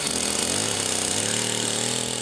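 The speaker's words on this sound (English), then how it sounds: "now it's a chainsaw." Chainsaw droning steadily in the woods, loud and continuous throughout with a sustained motor buzz and no pauses.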